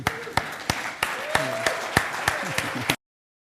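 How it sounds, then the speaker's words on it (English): A small audience at a startup talk show claps for the host as he is introduced, sparse distinct claps about three per second for three seconds before cutting off abruptly. "Round of applause for Jason Gallianis"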